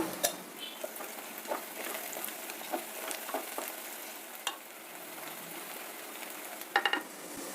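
Vegetables fry in oil with turmeric in a pan, a soft continuous sizzle with occasional stirring scrapes and a few sharper clinks of a utensil near the end, no voices.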